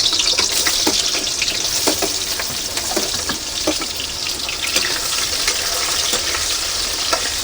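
Onion sizzling steadily in very hot oil in a pan, a loud continuous crackling hiss with small pops throughout, no voices.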